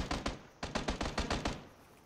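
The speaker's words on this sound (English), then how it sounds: "Heard shots from behind." Rapid bursts of automatic gunfire in PlayerUnknown's Battlegrounds, a quick pair of shots then a steady rhythmic string of about eight loud cracks, fading at the end.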